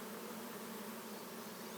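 A swarm of honeybees being captured by hand, with a dense, steady buzzing that holds level throughout at close range, and no voices.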